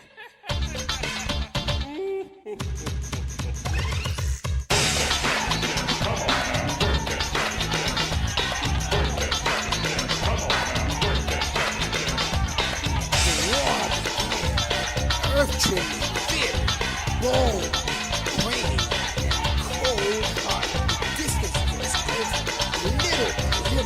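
Video game music from Sonic CD, opening with a few sparse hits before a dense, loud, continuous arrangement that runs to the end.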